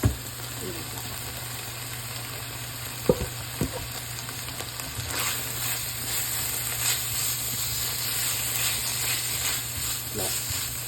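Peppers, chili and thyme fry in a pan for spaghetti, a steady sizzle running throughout with a few clinks and scrapes of stirring near the start and end.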